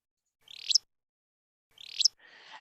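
Two sharp, rising creet calls of a flycatcher from a recording, spaced over a second apart, the second followed by a softer rough buzz, heard clean against silence.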